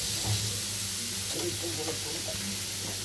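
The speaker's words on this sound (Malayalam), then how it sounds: "ഇതൊന്ന് വഴട്ടി കെട്ടാവുന്നിടം വരെ ഒന്ന് ഇളക്കി" Fish roe roast sizzles steadily in a hot pan while being stirred, a continuous close hiss and crackle with a faint voice murmuring underneath.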